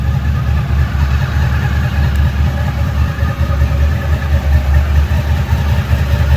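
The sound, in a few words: 1998 Honda VFR 800 V4 motorcycle engine idling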